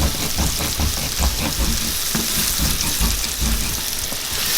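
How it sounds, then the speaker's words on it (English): A wooden spoon scrapes browned bits off a hot skillet while onions cook for beef stroganoff, giving repeated rough scraping strokes over a continuous loud sizzle. "You want to scrape it off your skillet, because this is all the taste that will go transfer to the onion in beef stroganoff."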